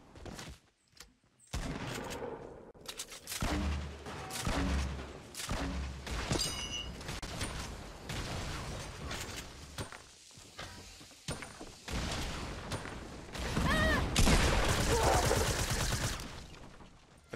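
First-person shooter gunfire rattles through dense bursts and rapid shots, with heavier thumps and a loud flurry near the end and brief pauses between, with players' voices talking over parts of it.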